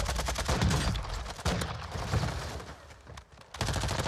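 Rapid automatic gunfire in an online shooter match, with bursts of shots firing close and loud and short gaps between volleys, continuing across the whole span, no voices.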